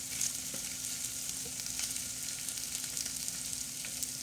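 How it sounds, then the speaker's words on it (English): A Spam stir fry fries in a pan with a steady moderate sizzle and scattered pops and stirring ticks, heard close and without talking. "Everything needs to be able to breathe here and get fried"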